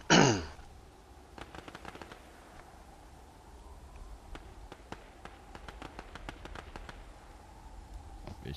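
Fortnite gunfire sounds in rapid, faint, distant bursts of sharp cracks against a low game-ambience hum, with an opening thump.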